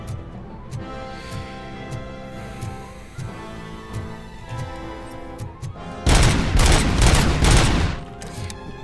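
A burst of dense rapid rifle gunfire in RoboCop: Rogue City erupts loudly for about two seconds over a steady background of game music and ambience.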